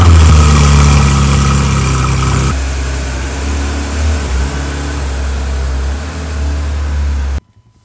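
A sports car engine idles loud and close, a deep, steady rumble that drops slightly in intensity partway through and then cuts off abruptly just before the end.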